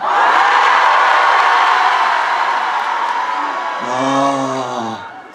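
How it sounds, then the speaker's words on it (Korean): A large outdoor crowd at a port crab festival concert roars and cheers loudly on cue, a sustained wall of shouting that tapers off, followed near the end by a single voice with a sung, pitched tone. "자, 하나, 둘, 셋, 함성."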